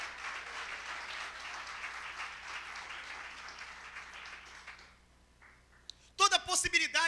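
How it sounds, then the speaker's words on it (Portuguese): A congregation at an evening worship service applauds with a soft, steady wash of clapping from a distance that fades after several seconds, followed by speech. "você pode aplaudir ao Senhor aí?"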